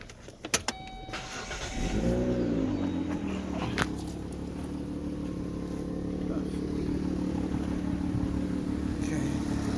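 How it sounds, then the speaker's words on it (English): A car engine is started with a brief cranking burst, then settles into a steady, close idle that hums on evenly for several seconds; a voice is briefly heard near the start. "Just start the engine."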